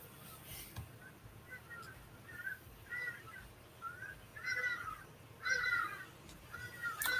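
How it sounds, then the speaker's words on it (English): Several harsh bird calls repeat outdoors at irregular intervals, fairly close, over a faint background hiss. "hope you guys can't hear those birds"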